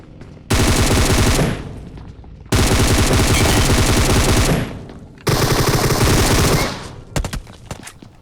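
Gunfight in the BGMI mobile battle royale game: three loud bursts of rapid automatic gunfire, each lasting one to two seconds, separated by short pauses, then a few scattered single shots.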